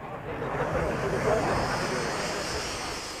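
Aircraft engines drone at an airshow where Red Arrows Hawk jets prepare for a display, a steady broad roar with a swelling whine, with faint voices underneath.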